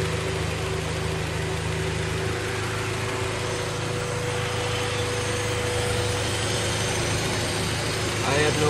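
Radiator fans whir steadily on an idling 1990 Honda Accord, blending with a low, even engine hum that holds constant throughout, close and moderately loud, with no talking.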